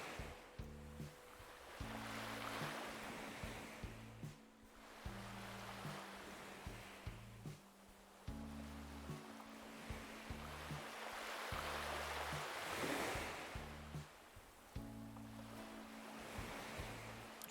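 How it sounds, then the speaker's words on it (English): Ocean waves in the Animal Crossing video game roll onto a beach, swelling and fading in soft repeated surges over a low, steady hum, with no voices. "Sound of the waves are so real,"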